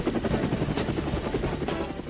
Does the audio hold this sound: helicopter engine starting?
yes